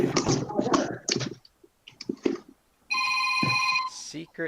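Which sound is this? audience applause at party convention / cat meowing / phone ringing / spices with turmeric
phone ringing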